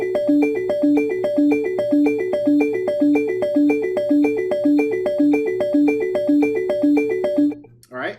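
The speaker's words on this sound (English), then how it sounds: "the first part I'm going to add is the synthesizer part at the beginning that sounds like this." A repeating synthesizer riff built in the Soundtrap online studio plays alone for about seven seconds, a steady looping pattern of bright stepped notes over a low sustained drone, then cuts off abruptly.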